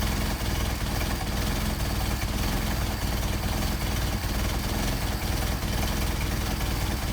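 An engine idles steadily after its idle speed is raised slightly, a constant, loud, even mechanical drone with vibration and no change in pace, with no voices over it.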